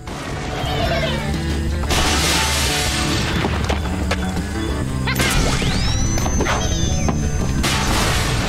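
A castle of glass and stone is smashed and collapses in Angry Birds, with loud crashes, thwacks, whooshes and a falling whistle layered over continuous game music.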